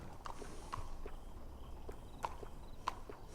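Horse hooves clip-clop in Red Dead Redemption 2, soft, sparse steps at a slow walking pace, faint and fairly distant, with a few sharper knocks standing out against a quiet background.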